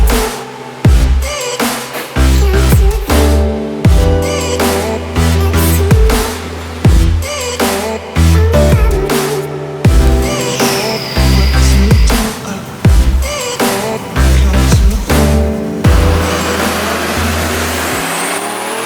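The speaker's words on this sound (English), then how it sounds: "So we're gonna go ahead and make some dyno pulls." A turbocharged B-series car engine on a dyno, with a cast-iron top-mount manifold, roars loudly through repeated high-rev pulls, each climbing in pitch then dropping off abruptly before revving up again.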